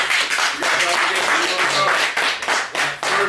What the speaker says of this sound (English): I need a clap for her